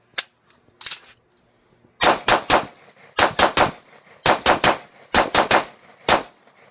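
Sig P228 pistol fired at an Israeli outdoor range: a few sharp single shots, then four quick strings of three or four rapid cracks each, loud and close.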